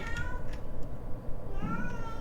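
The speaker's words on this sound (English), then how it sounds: "My cat is screaming again." A house cat meows loudly in a couple of drawn-out, whining cries, close to the microphone, over a faint low background hum.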